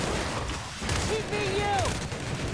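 Gunfire in The Outer Worlds rattles in quick, overlapping bursts of close shots, mixed with whistling projectile tones, while voices talk over the shooting.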